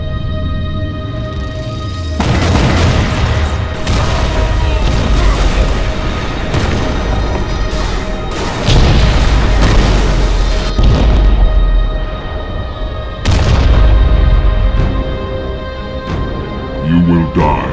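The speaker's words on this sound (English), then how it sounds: "We're back online and able to send artillery fire." Heavy artillery blasts from the UNSC Hyperion in Halo: Reach, booming in a few loud surges of rumbling low-end impact over sustained cinematic score, with voices speaking between the barrages.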